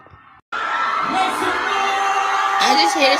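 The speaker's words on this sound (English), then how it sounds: "Do y'all hear that crowd going berserk?" A large indoor crowd goes wild with cheering, whooping and yelling, loud and sustained after a sudden start, with shouting voices rising above the roar.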